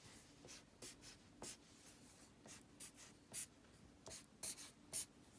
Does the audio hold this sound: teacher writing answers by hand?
yes